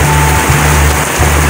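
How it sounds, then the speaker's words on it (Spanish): Storm rain falls steadily in Dayton, Ohio, an even broadband wash of water with a faint low hum running beneath it and no talking. "Qué hermoso es ver llover."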